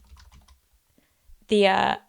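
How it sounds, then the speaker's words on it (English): Light, faint keystrokes on a computer keyboard tap in a quick cluster, then fall quiet before a person starts speaking close by. "sorry y'all are hearing me typing"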